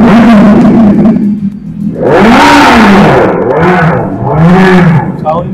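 A synthetic motor sound from the sound button of a 2023 Revolt RV400 electric motorbike rises and falls in repeated sweeping whooshes, loud and close, like a simulated engine tone played in bursts.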